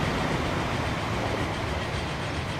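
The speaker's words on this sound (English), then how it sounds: "Another one of the Pennsylvania Mainline trains heading into Columbus." A Pennsylvania Mainline train rolls along in Transport Fever, a loud, steady rumble of wheels and cars with a faint clickety-clack, continuous and close.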